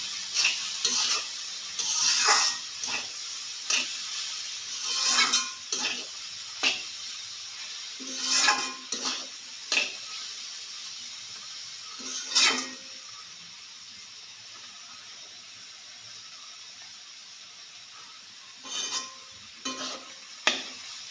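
Onion flowers and carrots being stir-fried, with intermittent scraping stirs in the pan over a constant soft sizzle, quieter stretches between bursts of stirring.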